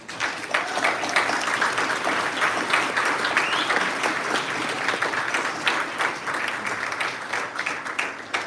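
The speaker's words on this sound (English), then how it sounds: "Give them a huge round of applause, please." A graduation audience gives a long, full round of applause for the teachers, a dense wash of many hands that stays steady and loud, with faint crowd noise mixed in.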